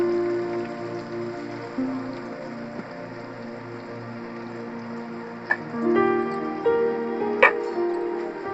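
Garlic goes into a pan of frying onion and curry leaves for a spicy field-bean curry. The result is a steady, close, rain-like sizzle with a faint hum and a few sharp pops near the end.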